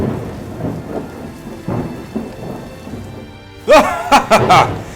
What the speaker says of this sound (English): her Ludicolo then caused the dense, heavy rainstorm that fell from the blackened sky above